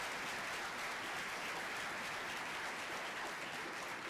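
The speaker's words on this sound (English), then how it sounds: "Let's give him a big round of applause." Steady, dense applause from a school concert audience welcoming a new school district superintendent, even and sustained throughout at moderate loudness with no voices over it.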